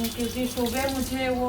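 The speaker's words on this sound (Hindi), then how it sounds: "दोपहर के बर्तन मैं शाम को ही धुलती हूँ," Running kitchen tap while evening dishes are washed at the sink, a steady, close gush of water throughout, with someone talking over it.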